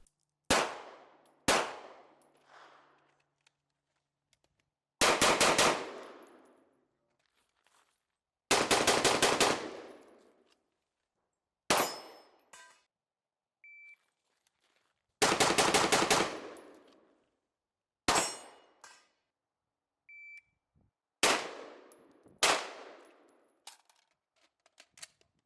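Beretta ARX100 rifle with a 16-inch barrel firing outdoors, about ten loud single shots spaced a few seconds apart, each a sharp crack with a decaying echo, plus faint metallic pings between some shots.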